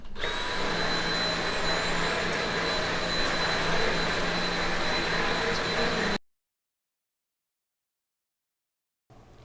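A robot vacuum running at normal suction gives a loud, steady whirring hum with a high whine, continuous for about six seconds before cutting to silence, then briefly resuming at the end.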